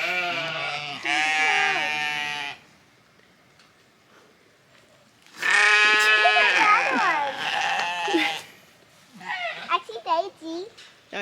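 Sheep on a farm pasture bleat in two long, close, loud calls separated by a quiet gap, followed by a shorter cluster of broken bleats.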